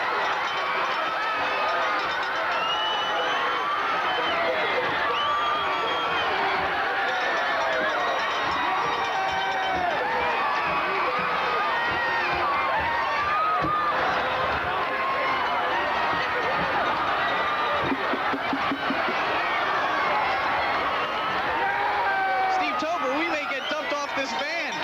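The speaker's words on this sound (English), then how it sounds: "Let's listen to the crowd and enjoy the celebration" A high school football stadium crowd roars without a break after Randolph's winning field goal against Montclair in 1990, a dense, sustained wall of cheering and shouting with voices mixed through it.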